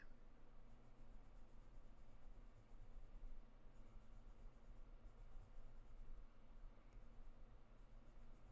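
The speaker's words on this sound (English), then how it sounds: "I'm actually gonna write the name." A pen scratches steadily across paper while a map of North Carolina is drawn by hand, a soft continuous writing sound heard close up and quiet.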